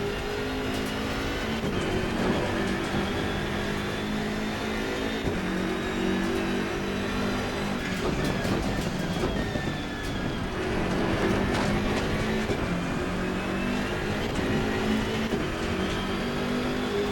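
A BMW M6 GT3 race car engine in the racing game Assetto Corsa Competizione roars loud and steady, revving continuously through the gears with a brief dip as it shifts.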